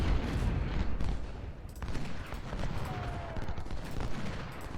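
A massed musket fusillade in the Civil War strategy game Ultimate General: Civil War at the Antietam skirmishes crackles as a dense, continuous roll of overlapping shots at middle distance, with no voices over it.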